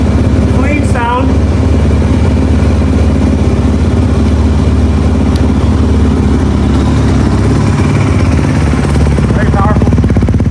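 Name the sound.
Honda motorcycle engine running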